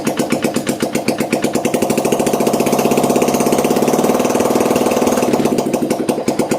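A motorbike engine runs close by with a steady, rapid putter, its pitch and loudness rising gently through the middle as the throttle is opened, then easing back, with no talking.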